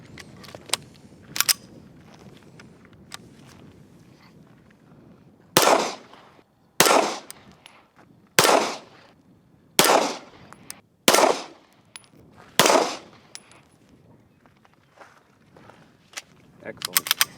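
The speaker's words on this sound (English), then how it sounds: "Just like Matt, take this thing through one mag." A Rock Island Armory MAPP FS pistol fires one magazine: loud, close single shots at an uneven pace of roughly one every second or so, with quieter handling clicks and faint voices between them.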